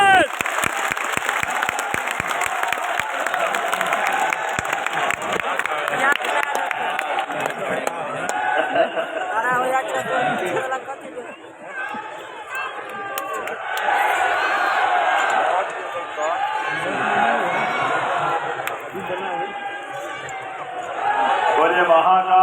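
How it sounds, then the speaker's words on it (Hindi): A large stadium crowd applauds and cheers for the chief minister, sustained loud clapping with shouts mixed in, dipping briefly midway before swelling again. "आप सभी की बुलंद तालियां होनी चाहिए।"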